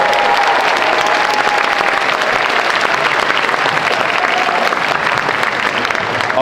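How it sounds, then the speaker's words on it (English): Sustained audience applause after a taiko drumming recital, steady and dense throughout with a faint crowd murmur, no drumming heard. "Let's give them another round of applause."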